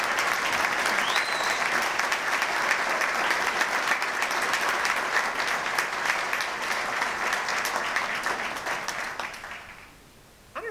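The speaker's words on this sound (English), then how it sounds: "Let's give Hugo a great round of applause." Outdoor crowd at a university engineering groundbreaking ceremony giving a long, steady round of applause and cheering, dense clapping throughout before tapering off at the end.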